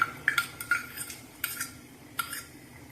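A spoon clinks against a pot as a tempering of mustard seeds, chili and asafoetida in coconut oil or ghee goes into a keerai mor kuzhambu buttermilk curry, with several sharp metallic taps and a light stirring scrape.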